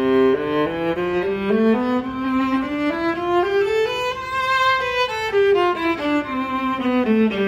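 A viola bowed in a smooth scale that climbs from its lowest notes up to high ones and then descends again, each note clearly separated, played solo and close.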